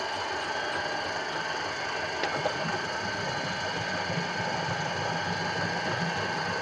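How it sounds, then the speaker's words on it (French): A soap-making mixing machine blending liquid window-cleaning soap runs with a steady, close motor drone and mechanical hum that never lets up, with no voices. "Je vais lancer ma machine"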